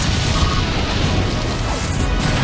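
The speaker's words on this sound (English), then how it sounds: "Annihilated by explosion!" A loud, dense blast from a Pokémon's Explosion move in Pokémon Battle Revolution, a continuous roaring burst of crashing noise filling the short stretch without speech.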